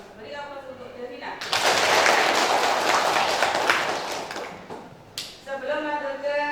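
Students clap for a classmate in an Indonesian economics lesson. The applause is a dense, steady burst lasting about four seconds, with a teacher's voice heard before and after it.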